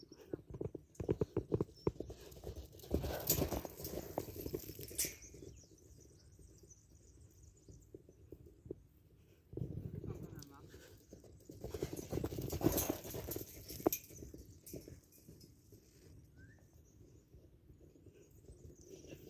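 A loose horse moves at liberty in an open area, its hooves clip-clopping in irregular bursts that come and go, fairly faint, with quiet outdoor background between.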